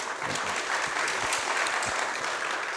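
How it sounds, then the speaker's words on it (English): Steady applause from a conference audience on drone warfare, a dense even patter of many hands clapping, moderately loud and continuous with no talk over it. "Big round of applause."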